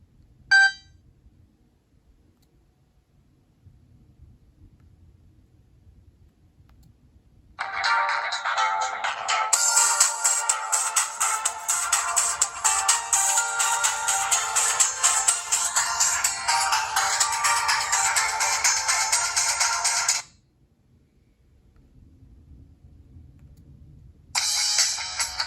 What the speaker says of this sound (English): We'll go over a few ringtones.